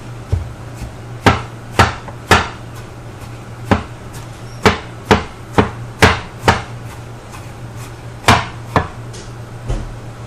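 A knife chops an apple on a hard surface: about fifteen sharp, close, loud knocks in an uneven rhythm, some in quick pairs and others spaced apart.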